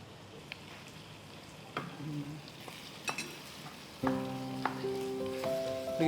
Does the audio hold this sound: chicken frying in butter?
yes